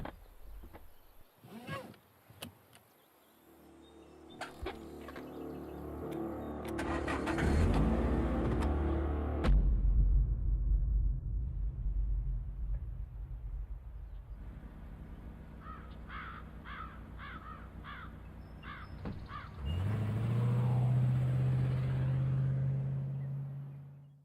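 A car engine cranks and catches, then revs in a loud sustained rumble that rises again near the end, with crow caws and brief clatter before it starts.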